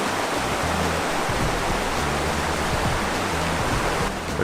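A shallow, rocky brook at Winhall Brook campground in Vermont rushes steadily over stones, a dense, unbroken water roar close by with no voices.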